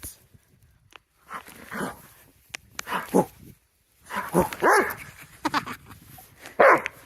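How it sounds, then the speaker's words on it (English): A dog named Murphy, bounding through snow, lets out several loud yips and barks in uneven bursts while a woman chatters over them nearby. "Oh, shush, don't bark."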